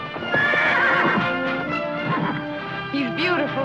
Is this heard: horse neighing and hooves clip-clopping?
yes